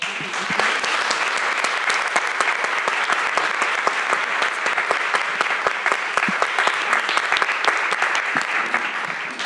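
An audience at a conference on US Spanish standardization gives the speakers loud, dense applause that runs steadily the whole time without any talk over it.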